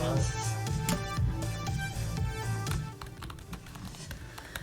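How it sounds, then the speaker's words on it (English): Rapid keyboard typing during a word-typing minigame in Arcade Spirits, a steady run of light clicks mixed with game music tones, fading quieter toward the end. "Now we're both typing random words from all over the screen."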